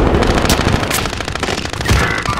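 Close, loud automatic gunfire in Call of Duty Warzone, a dense continuous stream of shots over the whole stretch with a few sharper cracks.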